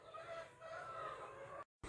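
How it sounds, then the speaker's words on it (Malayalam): Backyard hens kept for household eggs cluck steadily and close by, a continuous stream of soft, overlapping calls with no speech, cut off by a short silence near the end. "അപ്പോൾ ഞാൻ നിങ്ങൾക്ക് എൻ്റെ കോഴികളെയൊക്കെ ഒന്ന് കാണിച്ച് തരാം കേട്ടോ"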